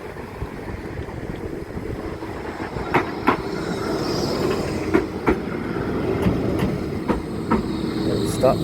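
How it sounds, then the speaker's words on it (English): A Blackpool tram rumbles past close by with steady low rolling noise and periodic sharp clicks of wheels over rail joints, while people talk nearby. "Come on, tram."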